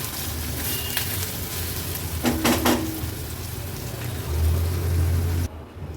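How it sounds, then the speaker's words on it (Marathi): Onions with ginger-garlic paste cook under a lid in a covered pan, giving a steady, soft broadband sizzle throughout, with a brief clatter partway through. "आता झाकण ठेवते आणि कांदा शिजवून घेते।"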